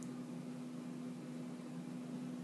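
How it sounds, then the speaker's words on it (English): A running furnace gives off a steady, faint mechanical hum with a constant low tone under soft airy noise, unbroken and alone throughout. "I hear the sound of the furnace running."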